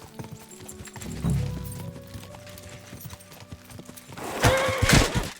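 A horse in Kingdom Come: Deliverance II gallops with clip-clop hoofbeats, and a whinny and a louder burst of action come near the end. Game sound effects play alone without talk.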